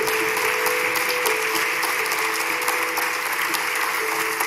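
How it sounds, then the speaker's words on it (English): A church congregation applauding a preacher, dense sustained clapping that stays loud and steady throughout, with no voices on top. "let's give a round of applause"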